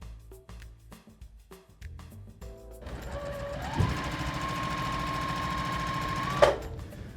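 A sewing machine joins quilt binding strips, starting with short stop-start bursts of stitching, then running in one long steady whir, close and clear, ending with a sharp click.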